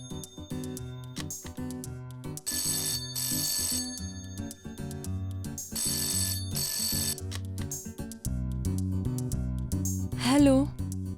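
Telephone bell rings repeatedly over a loud, continuous film music score.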